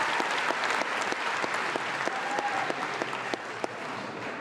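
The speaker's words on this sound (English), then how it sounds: "let's give a quick round of applause to Miss Alico, who's actually stayed with me" Applause at a school graduation ceremony: a large crowd claps steadily and evenly for several seconds, a dense patter heard from within the audience.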